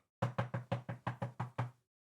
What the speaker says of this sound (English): She over there knocking on the door.